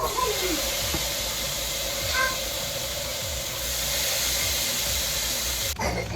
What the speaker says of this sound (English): It's nice and hot. And I'm going to go ahead and throw these steaks on.